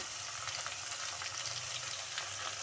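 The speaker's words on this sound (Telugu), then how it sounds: "ధనియాల పొడి వేసి మొత్తం కలిసే విధంగా కలిపి మగ్గించుకోవాలండి ఇదంతా ఈ మసాలంతా ఈ ముక్కలు పట్టే విధంగా ఫ్రై చేసుకోవాలి" Mutton pieces with masala, salt and coriander powder frying in a cooker: a steady, close hiss of sizzling oil with faint stirring, no voices.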